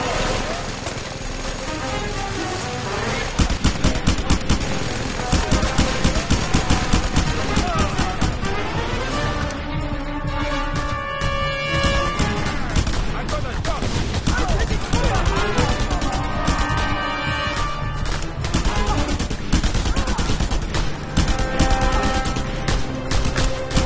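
Sustained mounted-gun fire in the Just Cause 2 video game, dense continuous rattling bursts over explosions and battle noise, with in-game voices talking over the din.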